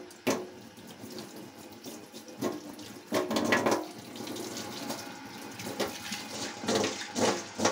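Water runs from a kitchen sink tap onto aluminium in the basin, a steady hissing flow broken by louder splashing surges as things are rinsed under it.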